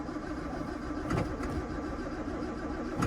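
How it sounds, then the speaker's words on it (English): A 1966 Jaguar XKE Series 1 2+2, started cold with the choke up by pressing its starter button, gives a faint, short cranking burst near the middle that settles into a quiet, barely audible idle. "we should just be able to push the starter button here."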